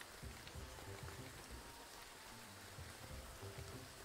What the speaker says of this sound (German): Regnet es.